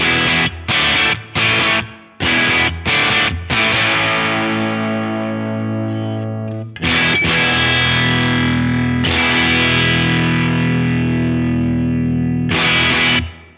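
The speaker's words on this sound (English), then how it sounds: "This has this kind of little amp about to explode sound" Distorted electric guitar through an Axe-Fx III modelled small overdriven amp, a few short choppy stabs followed by long ringing chords, loud and gritty with no talking.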